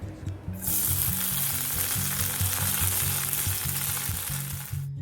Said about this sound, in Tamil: இனிமேல் இதை கார்லிக் போட்டு நல்லா வாசனையாக தாளிக்க போகிறோம்.